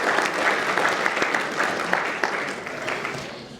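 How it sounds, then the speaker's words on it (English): An audience at a solidarity event for Palestine claps steadily for a few seconds, a dense, even wash of applause that tapers slightly toward the end. "So a round of applause for all of you guys who are here today."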